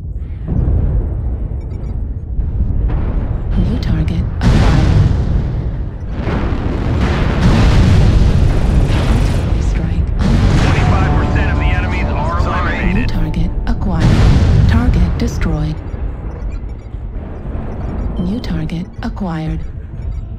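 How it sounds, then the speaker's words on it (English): A video game artillery strike: a dense run of loud, booming explosions and crackling bursts fills about twenty seconds, overlapping one another with metallic debris clinks, while voices come and go beneath the barrage. "Artillery strike activated."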